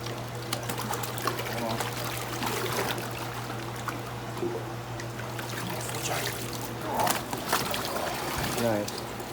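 Water is poured into a catfish shipping box, giving a steady low splashing trickle that runs throughout, with a louder gush near the end while people talk nearby.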